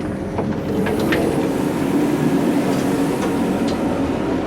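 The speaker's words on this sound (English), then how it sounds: "Anyway, we're just pulling into the station now." A six-coach train of two coupled Class 175 units pulling into Swansea station, heard from inside as a steady, loud rumble of wheels and running noise with faint squeaks, no talk.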